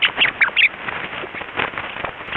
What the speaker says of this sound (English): So here's the sound a rat makes if you tickle its back.